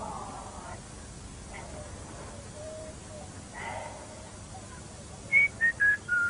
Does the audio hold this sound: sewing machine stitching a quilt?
no